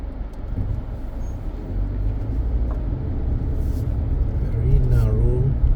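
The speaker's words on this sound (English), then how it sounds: "Just let these cars come down." Cars passing on a narrow residential street in Christ Church, Barbados, heard as a steady low rumble of engines and tyres that swells slightly near the end.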